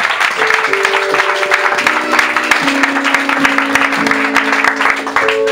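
A church congregation claps steadily and loudly together in sustained applause, while a sung or spoken voice carries on over the clapping.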